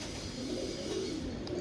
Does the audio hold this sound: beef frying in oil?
no